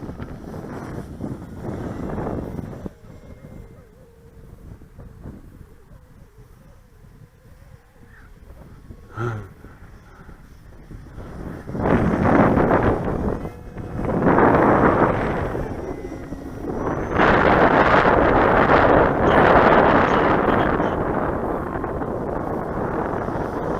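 Wind buffeting a microphone at a model airfield during a flight of a Premier Cessna 170 RC plane, gusting loud and rough in bursts, calmer in the middle and strongest toward the end, no talk.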